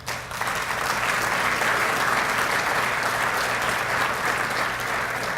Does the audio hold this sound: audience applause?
yes